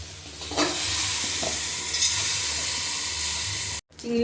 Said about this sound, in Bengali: চিংড়িগুলো হালকা করে ভেজে নেব